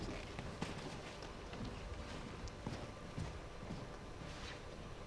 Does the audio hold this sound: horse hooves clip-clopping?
yes